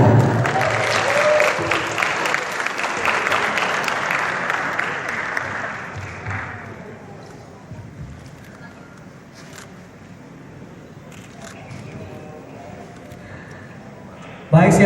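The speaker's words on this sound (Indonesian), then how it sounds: "berikan tepuk tangan yang meriah untuk Gary Iskandar" A hall audience claps loudly for Gary Iskandar at the Bujang Gadis Palembang 2020 event, dense applause that fades and thins out midway, leaving a quieter room murmur.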